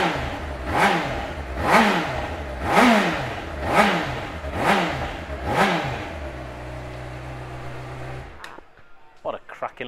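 A 2012 Honda CBR600RR sport bike is revved hard six times in a steady rhythm, each blip rising and falling close by, then the engine settles to an even idle and cuts off with a few clicks.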